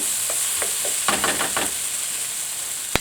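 Minced meat for bolognese sizzles steadily in a pan, a constant close hiss with a few scraping stirs partway through and one sharp click near the end; no one speaks.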